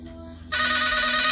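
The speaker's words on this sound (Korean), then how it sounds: "누구야, 이거 전화 어떻게 받는데? 나 이 소리 싫어!" A phone ringtone for an incoming call bursts in loud about halfway through, after a quieter stretch, and rings steadily to the end.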